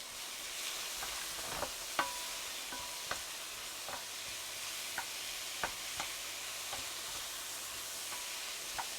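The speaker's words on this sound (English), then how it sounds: "Sorry about the sizzling sound. It makes such a noise." A stir-fry sizzles steadily in a hot pan, with sharp clicks and scrapes of a wooden spoon stirring at irregular intervals.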